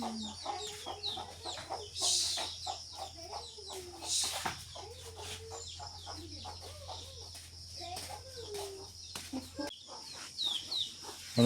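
A black hen clucking outdoors in a yard, short repeated clucks spread through the clip alongside other bird calls and a steady low hum, moderately near.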